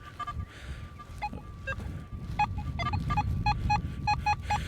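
A metal detector sweeping over ground emits a series of short electronic beeps, a few scattered early and then a quicker rhythmic run, close and clear over low background rumble, with no talking.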